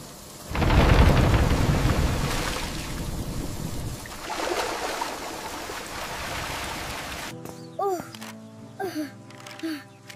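Heavy rain pours down in a loud, steady broadband wash with a deep rumble of thunder beneath it for most of the stretch, then gives way near the end to a few short voiced sounds over quieter rain.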